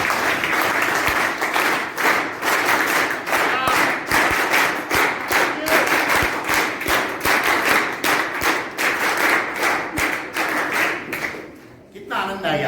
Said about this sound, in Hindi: आज की वर्कशॉप उसी ताली के साथ कंडक्ट करेंगे।